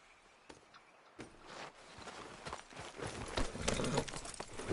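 A horse's hooves clip-clop at a steady walking pace in the video game Red Dead Redemption 2, the rhythmic clops growing louder and busier as the animal moves close by.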